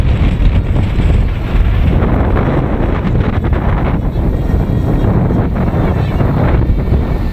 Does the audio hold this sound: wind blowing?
yes